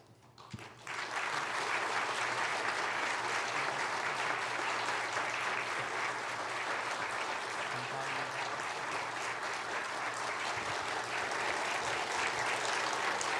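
A congregation applauds retiring deaconesses at a Korean church ordination service; after a brief quiet moment, dense, steady clapping from a large crowd fills the room and holds evenly to the end.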